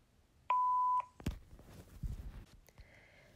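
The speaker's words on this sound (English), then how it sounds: "Leave a message at the beep" A single clear electronic beep lasting about half a second, followed by a few soft clicks and handling noises.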